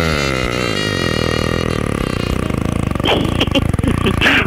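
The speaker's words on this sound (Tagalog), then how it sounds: "Ano yung motor?" A motorcycle engine runs loudly and continuously, with a rough, pulsing mechanical drone that shifts in pitch partway through; no voices.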